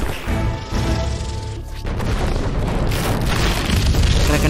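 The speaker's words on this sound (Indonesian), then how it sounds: "Untungnya Will bisa menyelamatkan diri sebelum tong itu diledakkan." A wooden barrel blows up in a loud, booming explosion after a gunshot in a Pirates of the Caribbean battle with the Kraken. Continuous heavy crashing and rumbling debris fills the scene, with no clear voices.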